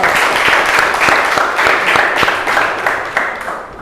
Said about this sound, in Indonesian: Tepuk tangan yang beri untuk Teteh Raju